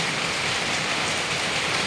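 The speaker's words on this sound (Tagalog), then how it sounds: "Ang lakas ng ulan, no?" Heavy rain pours down steadily in a dense, even hiss with no pauses or voices.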